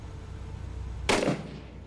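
A single sharp gunshot burst rings out in the video game Six Days in Fallujah, loud against a low background rumble and fading quickly.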